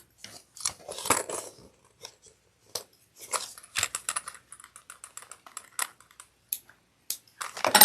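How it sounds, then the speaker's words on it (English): Scissors snip threads on a fabric sling in a quiet room, a series of sharp, close, dry clicks coming in irregular bursts with short pauses between them. "I'm going to trim these threads."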